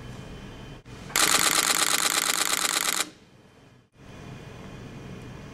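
A Nikon D3 camera fires a rapid burst of shutter clicks for about two seconds, loud and close, in a dense mechanical rattle that starts and stops abruptly, with quiet room tone before and after.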